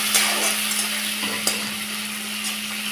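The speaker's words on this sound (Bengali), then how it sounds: "পেঁয়াজটাও আমি একটু হালকা ভেজে নেব।" Chopped onions frying in a pan for a vegetable dish, a bright steady sizzle with occasional scraping stirs and a low electrical hum underneath, no voices.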